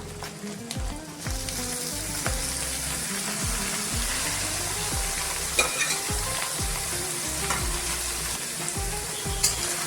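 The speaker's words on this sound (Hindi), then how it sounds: "अभी मैं अच्छे से मिक्स करेंगे और 5 मिनट पकाएंगे" Beef liver masala fries in a pan while it is stirred steadily, a loud continuous sizzle with the spoon scraping and knocking rhythmically throughout.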